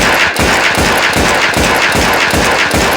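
Loud, steady rapid-fire gunfire from a weapon in the video game Melon Sandbox, a continuous stream of evenly spaced shots with a regular pulsing rhythm throughout, alone with no talking.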